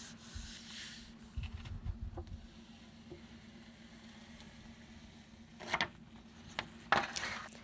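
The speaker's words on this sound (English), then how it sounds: "I just get the tool out of the way so that I can give it a good rub" A hand tool rubs the back of a print laid on a gel printing plate, giving soft, quiet scraping strokes in short bursts, with a couple of louder rubs near the end.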